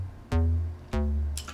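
Untreated Fortnite game sound standing in for an 808 bass: two low booming tones, each a sharp onset with a droning hum that sustains and fades, followed by a brief faint higher blip, alone.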